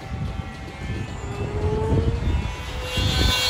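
A composite F5D Sonic Cutter RC glider flies fast overhead, its rushing whoosh building and rising in pitch as it passes, steady and fairly loud with no talk.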